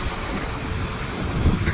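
Strong ocean surf pounds a beach in Central Java, a loud, continuous rumbling wash with wind noise that swells toward the end.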